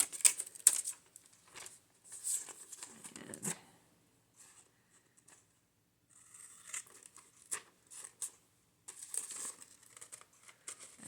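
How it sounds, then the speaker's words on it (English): Scissors snip and slice through sheets of wrapping paper laid over a file folder, giving close, dry crinkling and crisp paper cuts in short bursts separated by quiet pauses, with a brief rustle near the middle. "I do it with my scissors."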